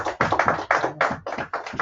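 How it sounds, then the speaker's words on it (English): A small group claps in quick, uneven bursts, close and fairly loud, for a couple of seconds. "With a round of applause."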